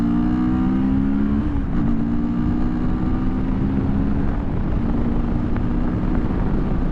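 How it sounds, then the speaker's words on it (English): A 2022 CFMoto 650NK motorcycle engine pulls steadily through the gears with a loud, close droning hum that shifts pitch at a gear change, under constant wind rush. "I'm gonna drop gears."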